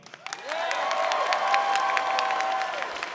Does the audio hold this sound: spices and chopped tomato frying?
no